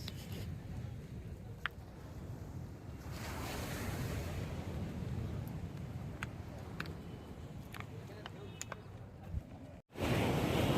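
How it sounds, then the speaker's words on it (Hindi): Sea waves break and wash continuously onto the beach at Digha in the morning, a steady loud roar of surf with wind buffeting the microphone, ending in a brief dropout before the rush resumes. "भयंकर साउंड होता है जब ये लहर आता है"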